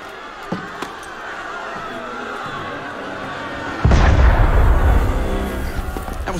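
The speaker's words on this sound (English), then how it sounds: "That was cannon fire." A single heavy cannon shot booms in Assassin's Creed Unity during a prison escape mission, a deep blast with a long rumbling tail after a stretch of quiet game ambience.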